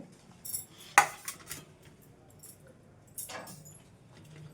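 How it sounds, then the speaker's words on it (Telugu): Ripe red chillies being chopped into small pieces, with a few sharp, isolated knife clicks against a board, one loud, spaced among quieter taps in a quiet room. "ఇవైతే చిన్న చిన్న ముక్కలుగా కట్ చేసుకుందాం"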